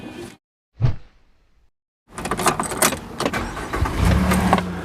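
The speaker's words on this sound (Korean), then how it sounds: "그러면 시동을 한번 걸어 보겠습니다" A Chevrolet Colorado truck with a low 12.3-volt battery sits quiet, then one short click comes before the starter cranks and the engine catches. It settles into a close, steady idle rumble, with no one speaking.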